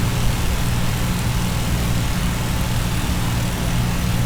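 A simulated A2A P-40C fighter's piston engine drones steadily during a descent, a loud, continuous low rumble with a dense propeller hum throughout.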